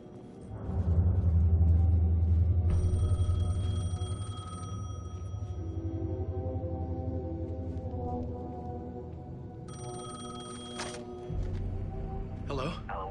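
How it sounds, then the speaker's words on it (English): An old payphone rings in Alan Wake 2, with loud bursts of ringing separated by a pause, set over a deep, steady droning rumble. "The payphone was ringing."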